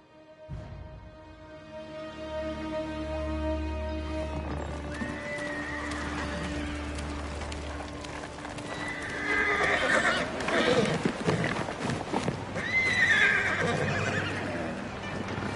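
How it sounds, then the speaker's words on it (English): Horse whinnying and hooves clip-clopping in the video game Ghost of Tsushima, a close neigh over a low ambient drone, with a voice speaking during the clip. "You look just like my father's horse."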